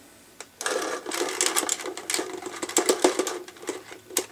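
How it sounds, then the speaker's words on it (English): Paintballs are poured from a pod into a Virtue Crown SF speed feed loader. They make a dense, close rattling clatter in uneven bursts after a short quiet start. "I'm going to dump the remaining balls from the other pod in here as well"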